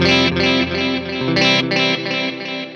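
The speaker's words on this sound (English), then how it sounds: "So you're hearing a reverb just on the repeats." Sustained electric guitar notes ring out and trail into soft echoing repeats from a GFI System Orca delay pedal, washed in reverb from a Skylar reverb pedal, layered and continuous.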